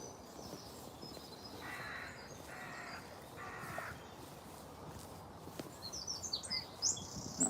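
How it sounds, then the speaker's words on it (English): A crow caws three times at a distance in an early-morning suburban park, harsh calls spaced about a second apart over outdoor ambience and footsteps. "There's a crow somewhere about."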